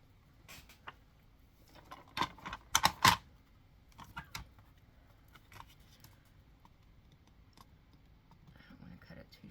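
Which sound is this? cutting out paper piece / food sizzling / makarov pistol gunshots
cutting out paper piece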